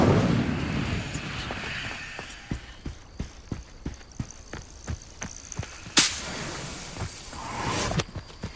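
Incendio fire spell cast in Hogwarts Legacy: a run of sharp whip-like cracks and thuds gives way to a loud flaring burst, followed by a rushing whoosh and another crack near the end.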